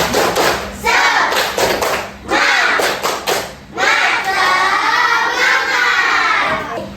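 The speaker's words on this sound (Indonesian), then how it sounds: "Kita tepuk semangat dulu ya." A classroom of students claps a rhythmic spirit chant in bursts, loud and close, with children's voices shouting along between the claps.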